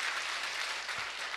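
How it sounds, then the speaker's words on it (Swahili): Crowd applause at a community gathering in Kibra, Kenya, about patriotism and national cohesion: dense, steady clapping from many hands that holds at an even level throughout, with no voices over it. "Na pigeni makofi jamani tu."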